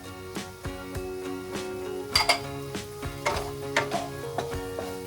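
Chopped chillies and grated carrot are stirred in a pan over a medium flame, the spoon scraping and clinking against the metal in a steady series of light knocks above a soft sizzle, close up with no talking.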